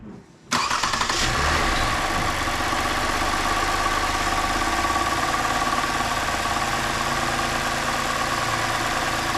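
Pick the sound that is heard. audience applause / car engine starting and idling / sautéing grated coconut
car engine starting and idling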